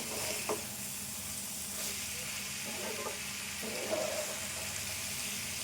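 Cluster beans and egg curry frying in a pan, a soft steady sizzle with occasional faint stirring scrapes, quiet and continuous.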